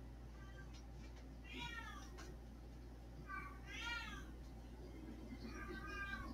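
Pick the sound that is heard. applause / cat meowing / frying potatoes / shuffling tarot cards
cat meowing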